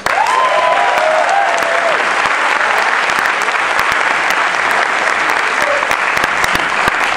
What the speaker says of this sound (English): Let's have a big round of applause for Jim Gilligan.